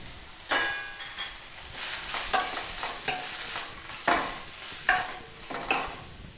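Salted brinjal sautéing in a pan, a soft hiss of frying under repeated scraping strokes of a spatula, about eight rhythmic stirs close up with no talk.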